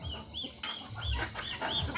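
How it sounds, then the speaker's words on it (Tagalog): A native rooster crows several times in quick succession over steady outdoor background noise, with other native chickens clucking nearby. "Mahuli ka daw ng manok na lalaki, Kit"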